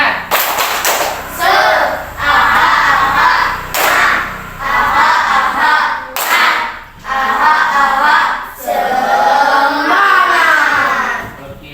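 A school class chants the Indonesian 'tepuk semangat' clapping routine in unison: loud, rhythmic bursts of group voices punctuated by sharp synchronized claps and thumps, repeating in short phrases with brief pauses between them.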